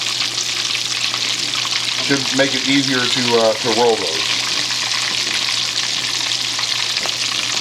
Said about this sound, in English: all we're doing here is making them crunchy, frying the tortillas